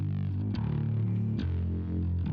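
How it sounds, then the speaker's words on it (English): Bass guitar track in a mixing session with a gentle distortion effect adding slight bite, sustained low notes changing every second or so, steady and alone. "Now let's add the distortion in."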